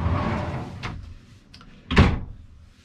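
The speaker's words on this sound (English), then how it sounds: "You can slide them back so they're not interfering with your walkway." Sliding interior doors in a Newell Coach 1690 luxury motorcoach glide along their track, with a soft rolling sweep and a firmer thud as one door slides home near the end, close and fairly clear with no talk.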